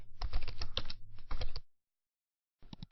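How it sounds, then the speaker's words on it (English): Typing on a computer keyboard: two quick bursts of rapid, close key clicks, a pause of about a second, then a few more keystrokes, with no talking. "Then go back to the software and type your ClickBank name into it."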